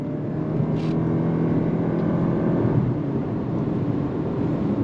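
A 2025 Lexus UX 300h F Sport hybrid with an eCVT, accelerating in eco mode: a steady, moderate engine drone heard from inside the cabin, rising gently without sharp revs.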